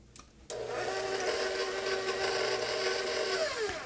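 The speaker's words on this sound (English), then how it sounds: "So I'm gonna put my paddle on there, raise it up, and start mixing." A stand mixer with a paddle attachment starts up and creams sugar and butter, a steady close motor whir with a brief clatter just before it kicks in.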